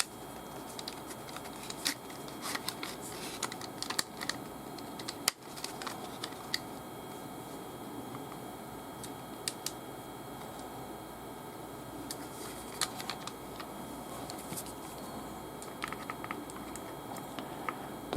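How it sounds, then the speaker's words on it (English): A screwdriver with a torque bit drives screws into a repeating bow during assembly: quiet, close, irregular small clicks and ticks of the bit and screws, scattered across a faint steady background. "I'm not tightening it yet, I'm just getting the screws in first"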